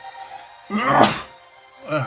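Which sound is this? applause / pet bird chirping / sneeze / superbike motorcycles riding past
sneeze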